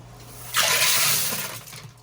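Water gushes suddenly into a tub while a turtle tank is rinsed, a loud rushing spray that lasts about a second and then tapers off, with a low steady hum underneath.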